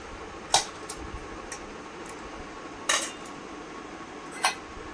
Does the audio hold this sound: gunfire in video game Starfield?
no